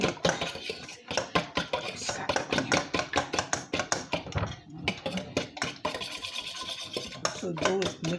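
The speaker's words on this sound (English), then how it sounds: "So I'm beating this egg." An egg being beaten in a bowl with a utensil, a fast, steady run of close scraping and clicking strokes that carries on almost without pause, with a brief voice near the end.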